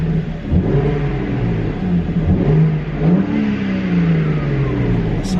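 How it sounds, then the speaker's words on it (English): A 2023 BMW M3 Competition xDrive with the S58 engine revs in neutral with exhaust valves open, loud and close, its rumbling note rising and falling through several blips with a steady idle burble in between. "the exhaust setup is open valve, so it is a lot louder, but we're going to confirm that with some revs"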